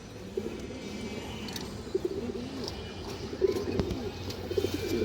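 Pigeons coo in soft repeated low throaty rolls, several birds close by, continuous over a faint background hum with no talking.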